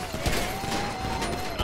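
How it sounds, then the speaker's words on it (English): Gunfire from NPC locals in a GTA V NoPixel roleplay game, several sharp shots crackling in quick bursts over a steady background hum, with a voice talking faintly underneath. "There's a bunch of locals shooting in the gauntlet."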